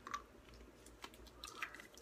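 Faint, close chewing and biting on a blue raspberry Now and Later candy, a few soft squishy crunches spaced across a quiet moment.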